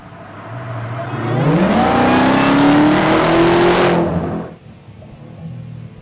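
A Dodge Demon 170 supercharged V8 revs hard and accelerates with a rising supercharger whine, building over a few seconds to a loud, close roar before cutting off sharply to a low idle rumble.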